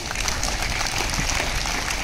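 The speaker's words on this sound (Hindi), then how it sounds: "खुद के लिए ताली बजाओ।" Schoolchildren at a Kargil Vijay Diwas celebration clap for themselves, a brief dense burst of applause from a large group that continues at an even level throughout.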